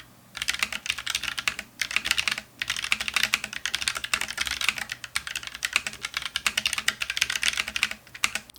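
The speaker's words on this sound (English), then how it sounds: "sticking with the K3, we went for the brown Keychron switches" Brisk, steady typing on a Keychron K3 mechanical keyboard with brown Keychron switches, close and clear, with fast clicky keystrokes in bursts and two short pauses.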